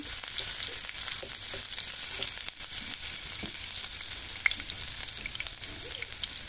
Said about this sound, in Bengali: তেল গরম হয়ে গেছে। এখন এখানে দিয়ে দিচ্ছি দেশি রসুন দিয়ে দিচ্ছি একটি, কুচি করে নিয়েছি।